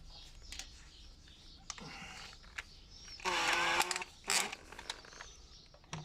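A cordless electric screwdriver fitted with a bolt socket whirs in two short bursts while tightening toilet mounting bolts during a WC installation, with faint ticks and clicks around it.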